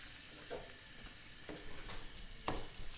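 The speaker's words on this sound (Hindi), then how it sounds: "ये दो हरी मिर्चें डाल दी मैंने और साथ ही इसमें हम कलेजी डालते हैं। इसको भी फ्राई करते हैं ज़रा।" Mutton liver frying in a pan with browned onions and two green chillies, a steady soft sizzle with occasional stirring scrapes, close and fairly quiet, no voices.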